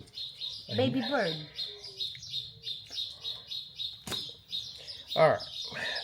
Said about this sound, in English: Baby bird.